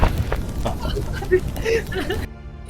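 Booming gunfire in the game Human Fall Flat bursts out amid excited talk, a few sharp blasts layered over a noisy, busy mix before it cuts off abruptly.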